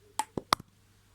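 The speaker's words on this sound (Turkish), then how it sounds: "Telefona vurdum." A hand strikes a phone in a few quick dull knocks and taps, about four short close hits within half a second, then quiet.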